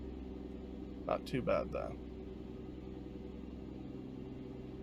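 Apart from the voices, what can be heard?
truck engine in video game American Truck Simulator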